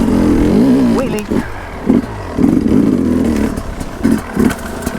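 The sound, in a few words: enduro dirt bike engine revving during a wheelie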